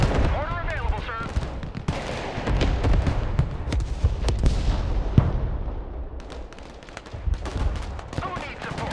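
Battlefield combat in the video game Broken Arrow: bursts of rifle and machine-gun fire with heavy blasts, dense and loud, while voices speak over the shooting.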